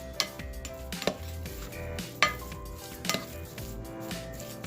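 A utensil stirs melted butter into cassava cake batter in a bowl, making soft mixing sounds broken by several distinct clinks and knocks against the bowl at irregular intervals.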